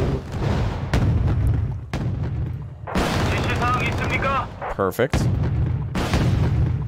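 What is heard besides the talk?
warships firing anti-ship missiles in video game Wargame: Red Dragon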